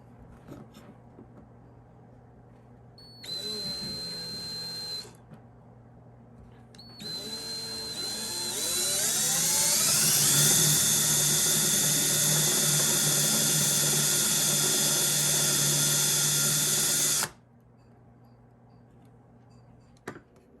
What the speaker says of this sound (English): Okay, now we got that drilled out, as you can see right here.